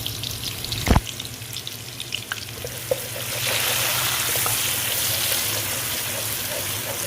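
Finely chopped large onion sautéing in a pan for dal, a steady frying hiss that swells louder midway, with a sharp clunk near the start and a few small utensil taps.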